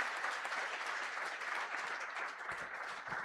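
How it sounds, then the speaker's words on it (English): At a corporate awards ceremony, a crowd gives the award winners a loud, sustained burst of applause that fills the hall, dense and continuous, with a few sharper claps standing out near the end. "A huge round of applause"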